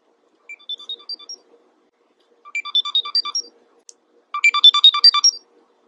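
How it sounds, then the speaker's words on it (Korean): LG Tone Free HBS-TFN6 earbuds sounding their finder alarm: three bursts of rapid high beeping, each a short run of chirping tones separated by silence, the last burst louder and denser, heard alone and close. "이어버드를 어디 뒀는지 모르거나 잃어버렸을 때 눌러보면 이어폰에서 경보음이 울립니다"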